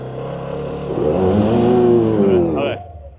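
A Polaris Xpedition UTV climbs a steep hill in one-wheel drive, its engine note rising and straining loudly for about two seconds before cutting off abruptly.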